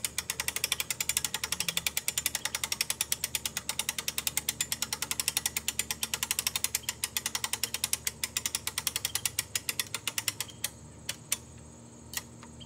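An archery bow shooting machine used for tuning a recurve bow at 30 m gives off a steady, fast mechanical clicking like a ratchet, evenly spaced and close, slowing and thinning toward the end.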